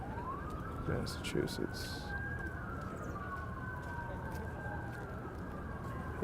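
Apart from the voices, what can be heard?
sirens from a news broadcast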